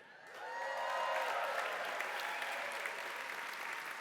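Audience applause at an evening event honoring Brian Sullivan, a steady wash of clapping that swells in quickly and holds.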